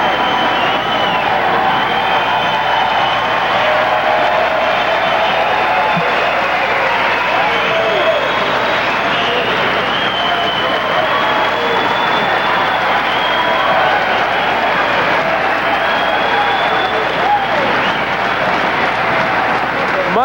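A boxing arena crowd at a 1991 fight cheers and applauds in a sustained, loud roar of clapping and voices that holds steady for about twenty seconds.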